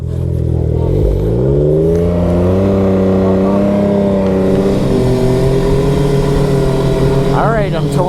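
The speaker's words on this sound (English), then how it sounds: "I'm towing Bean because he ran out of fuel" A car engine hums steadily and loudly while towing another car that ran out of fuel, with the note gradually rising as it pulls along; a voice speaks briefly over the engine.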